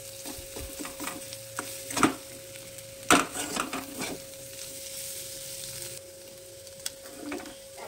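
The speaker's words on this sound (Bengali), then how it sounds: "আর সবজির সঙ্গে ডিমটাকে ভালো করে একটু ভেজে নেব" Egg frying with chopped vegetables in a pan while fried rice is made, giving a low steady sizzle with a few sharp scrapes and clinks from a stirring utensil near the second and third seconds.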